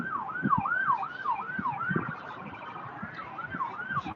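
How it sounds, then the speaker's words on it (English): A wailing ambulance siren on a city street near a liquor store and apartment complex, its rising and falling sweeps repeating steadily at a moderate distance over background traffic rumble. "Ambulance down there."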